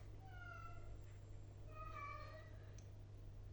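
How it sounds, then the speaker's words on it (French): Pet cat meowing twice in a room, faint and somewhat distant, two plaintive meows over a steady low hum. "Si vous entendez mon chat, il est en train de péter une durite."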